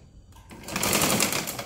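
A sewing machine stitches a blouse, its motor starting up after a brief quiet moment and then running in a fast, even close-up whir with no voices.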